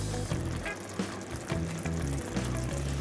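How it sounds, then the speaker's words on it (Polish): Vegetables stew under a lid in a pan for Greek-style fish, giving a steady soft sizzle and bubbling close by, with faint stirring knocks over it. "Całość bardzo dokładnie mieszamy i dusimy pod przykryciem około 25 minut, aż warzywa zmiękną."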